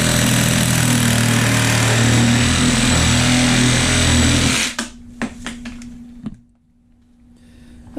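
A reciprocating saw with a metal-cutting blade rasps loudly through 1.5 inch PVC pipe for about four and a half seconds, then stops abruptly. A few sharp knocks and a faint low hum follow.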